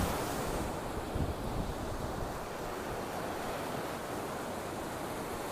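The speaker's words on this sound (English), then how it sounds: "Just wanted to show you some big waves here in Destin," Big ocean waves break continuously at a beach in Destin, Florida, a steady broadband roar of surf with some wind noise on the microphone and no talking.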